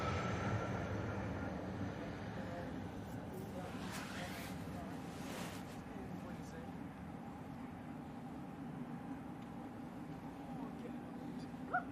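A Ryanair airliner passes over Manchester Airport as a low, steady jet rumble that stays faint and distant throughout, with muffled voices in the background.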